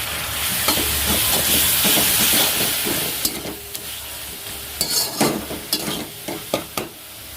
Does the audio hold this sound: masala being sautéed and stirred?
yes